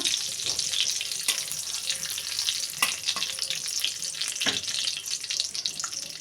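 Dried chili and a bay leaf sizzle and crackle steadily in hot oil for a fish curry, a loud, continuous frying hiss with a few sharper pops.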